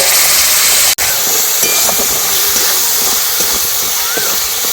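Soy sauce and tomato ketchup added to a hot pan, a loud steady hissing sizzle close up with a brief dropout near the start, with a voice speaking over it.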